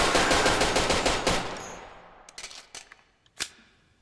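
Pistol fire in the video game Ground Branch: a fast, dense burst of loud shots fades out, then several sharper single shots follow at uneven intervals with short echoing tails.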